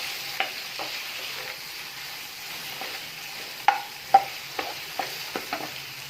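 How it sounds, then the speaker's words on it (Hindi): A spoon stirs ground black pepper and crushed red chili together in a bowl for chicken bread, making soft scraping with a scatter of sharp taps and knocks against the bowl's side. "और अब हम इसको करेंगे अच्छे से मिक्स।"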